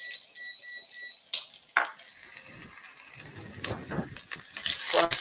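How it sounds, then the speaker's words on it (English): Garlic and onion are stirred in a pan, with a spoon scraping and clicking against the metal over a light sizzle. The sound starts quiet after a few faint beeps and grows busier and louder toward the end. "Gonna stir the garlic, stir the onion."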